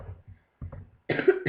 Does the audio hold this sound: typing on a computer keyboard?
no